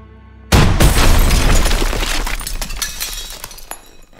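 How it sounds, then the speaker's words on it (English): A bazooka blast in the video game Call of Duty WWII: a sudden loud boom followed by crashing debris and shattering glass that decays over several seconds. "Daniels, use the bazooka"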